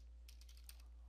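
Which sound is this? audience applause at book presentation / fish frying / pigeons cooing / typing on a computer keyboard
typing on a computer keyboard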